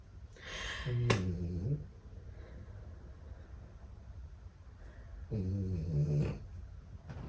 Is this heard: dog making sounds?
yes